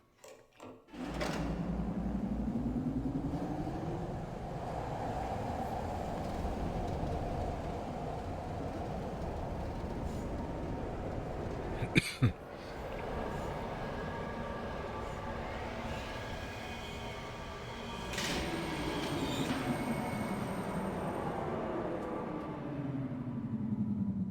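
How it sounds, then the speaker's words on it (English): Train ride in the video game Riven, a steady rumbling roll with rising and falling mechanical whine, a brief sharp clatter near the middle, continuous throughout with no talking. "Right, it's back on the train."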